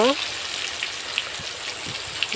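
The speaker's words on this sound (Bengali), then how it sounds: "মাছগুলো আমি তেলে দিয়ে দিলাম, ভালো করে ভেজে নেব।" Silver carp pieces frying in oil on a clay stove: a steady, bright crackling sizzle with scattered pops throughout, continuous and close.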